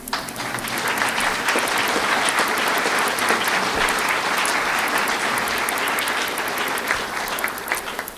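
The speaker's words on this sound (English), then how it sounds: "Now you should clap for yourself." Graduation audience at an MSAE ceremony applauding: steady, dense clapping from a large crowd, sustained and evenly loud throughout with no speech.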